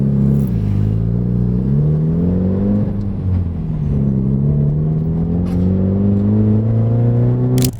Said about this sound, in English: so you guys can kind of hear how the exhaust sounds